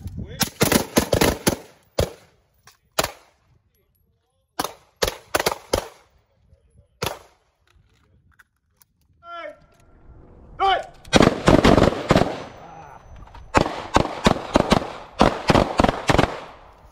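Carbine and pistol shots fired in a transition drill on a shooting range: rapid bursts of loud, sharp reports, then a pause, then more quick volleys, with brief voices in between.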